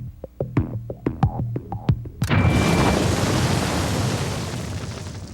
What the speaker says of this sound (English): They pile sandbags on the dynamite to direct the blast downward